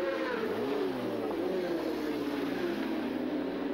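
Endurance racing motorbikes setting off together at Mallory Park, a dense blend of revving engines with pitch sweeping up and down as they pull away, steady and fairly loud without speech.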